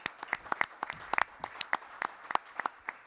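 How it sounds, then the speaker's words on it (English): An audience at a COVID-19 press briefing in New York claps in scattered, sparse applause, with individual sharp hand claps heard clearly for about three seconds. "Let's give them all a strong round of applause as well."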